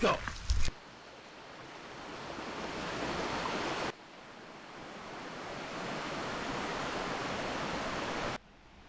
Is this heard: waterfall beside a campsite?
yes